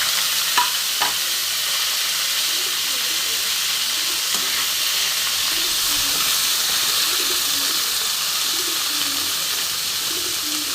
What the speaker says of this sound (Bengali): কালো জিরে কাঁচা লঙ্কাটা ভালো মতন ভাজা হলে আমি এতে মুলোটা দিয়ে দেব